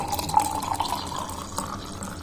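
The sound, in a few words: pouring water for cashew lemon juice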